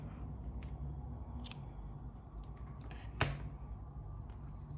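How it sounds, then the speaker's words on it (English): Scissors snip through three strands of crochet yarn, a few quiet clicks over a faint hiss of room noise, one sharper cut near the end. "Now you can cut off all those 3 strands, leaving a bit for hiding it later."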